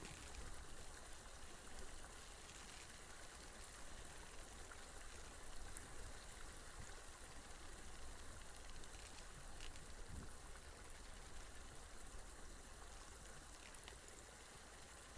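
In a fishing video game, a stream of running water gives off an unbroken, faint, even hiss with light trickling detail, constant throughout with no voices.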